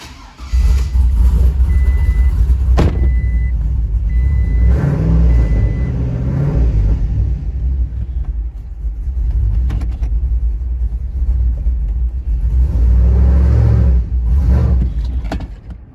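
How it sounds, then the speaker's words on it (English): A cammed LS V8 swapped into a Toyota Tacoma idles loudly with an uneven, choppy loping rumble that pulses irregularly, with a brief chirp of beeps early on and no talking. "it's got a pretty choppy lope on it"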